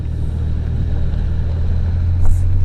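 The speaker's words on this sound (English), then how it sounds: "Put it in drive, lower the handbrake, and off we go." A Ford Expedition Timberline pulling away, heard from inside as a loud steady low engine rumble with a faint rise in level near the end.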